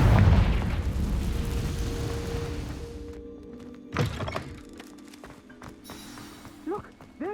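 Confringo blasting spell in the Hogwarts Legacy video game: a sharp close thunk-like blast, followed by a fading rumble and a few smaller pops and magical chimes.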